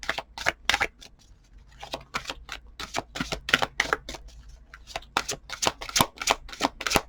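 Tarot cards are shuffled by hand up close in repeated crisp riffling bursts with short pauses between them, and faint background sound underneath.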